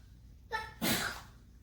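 A single close sneeze: a quick sharp intake of breath followed by a loud, explosive burst that trails off.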